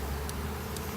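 Honey bees buzzing in a small colony unit split from a larger hive at a college bee lab, a steady close hum filling the whole moment with no talk over it.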